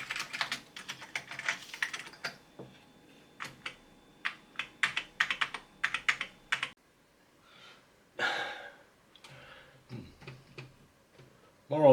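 Keys clatter on a Commodore Amiga 500 Plus keyboard, struck in quick irregular bursts of sharp close taps, with short pauses and a few quiet breaths between runs.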